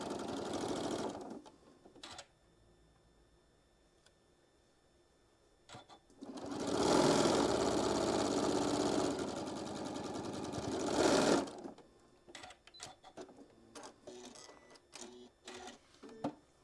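A sewing machine stitches a quilt seam along blue fabric in one long, close, steady whirring burst lasting several seconds, framed by short bursts and light clicks and handling taps before and after.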